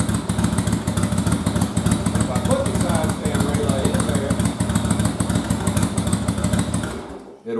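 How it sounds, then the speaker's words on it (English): A first-generation Yamaha Virago motorcycle runs at a steady, loud, throbbing idle close by while someone talks over it, and the engine cuts out abruptly just before the end. "So without the side stand relay, the bike still starts."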